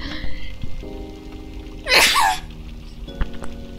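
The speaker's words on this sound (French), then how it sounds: "Je vais éternuer." A single sharp sneeze bursts out close by amid quiet background sounds in Final Fantasy IX, followed by faint scattered noises.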